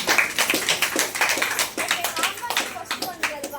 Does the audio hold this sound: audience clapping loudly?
yes